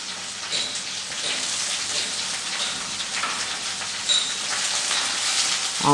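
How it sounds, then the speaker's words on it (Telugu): A steady, close sizzle of tempering spices hitting hot oil for a spinach and tomato curry, a dense crackling hiss that holds at an even level throughout. "పోపు వేస్తున్నాను"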